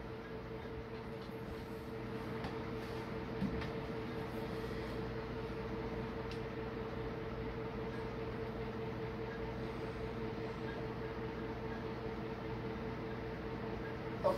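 A 1977 SMC/ERS industrial ceiling fan with wide blades runs steadily with a constant whooshing drone and a low motor hum, holding even and unchanging throughout.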